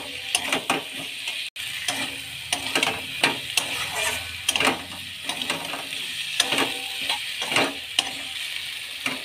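Potatoes and pointed gourd are stir-fried in a pan, with a continuous sizzle and repeated scraping, clattering strokes of a spatula. The sound is close and has no speech.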